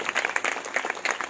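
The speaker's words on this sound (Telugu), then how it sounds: "చప్పట్లు కొడుతూ ప్రభు నామని మహిమపరచండి" A church congregation at a Christian meeting in Bhimavaram clapping in praise: quick, energetic handclaps from many people, close and continuous.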